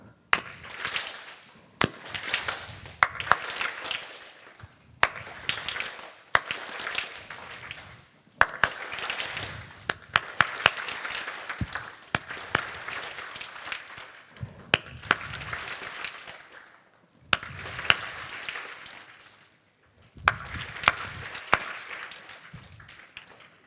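A group of people clapping together in rhythmic call-and-response patterns during a gathering with a spiritual teacher, short bursts of sharp claps separated by brief silences, fairly loud and close.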